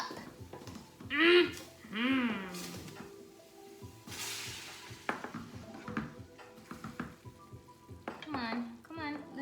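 Vegan taco meat mixture stirred in a pan, with a soft ongoing sizzle and scraping utensil strokes that come and go under frequent talking, close to the listener.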